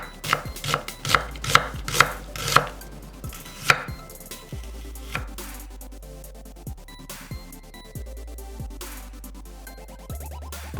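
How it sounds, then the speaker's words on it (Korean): A knife cuts a quarter onion into thick strips on a cutting board, with quick, close chops: a rapid run of crisp knocks at the start, then slower, spaced single strokes. "양파 4분의 1개는 살짝 굵게 채 썰고"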